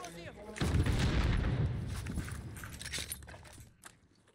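Gunfire in the shooter game Warzone: a sudden burst of loud shots erupts and rolls into scattered cracks and clatter, fading toward the end, with a voice talking briefly over it.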